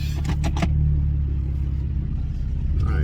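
A car rolls along on low tires with a steady deep rumble and droning road noise throughout, a few short knocks at the start.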